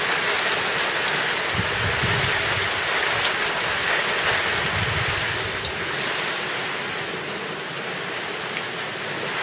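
Rain falls steadily outdoors at the leading edge of a storm, a dense, constant hiss of drops with a few low gusty rumbles under it, no talk.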